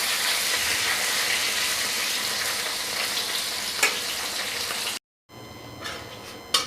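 Fish head and tail fry in hot oil with turmeric, a loud, dense crackling sizzle that runs steadily, with a brief clatter, a sudden cut to silence, then more sizzling with faint knocks.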